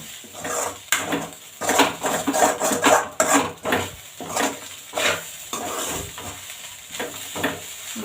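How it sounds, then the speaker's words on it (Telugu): Fish roe fry with garam masala being stirred in a pan, a metal spoon scraping and clinking in repeated strokes over a faint sizzle, close and fairly loud, with no talking. "గరం మసాలా ఫుల్ అంతా కలిసేలా అంతా కలపండి బాగా."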